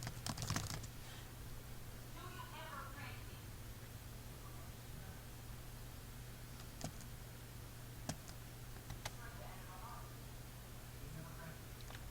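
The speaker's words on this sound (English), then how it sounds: "I'm going to type it to my teacher." Typing a message on a computer keyboard, with sparse, faint key clicks over a steady hum and bits of quiet speech.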